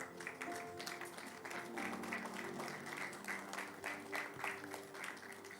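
A church congregation claps at a Sunday service, continuous rhythmic applause with a faint murmur of voices beneath it, heard at a moderate distance.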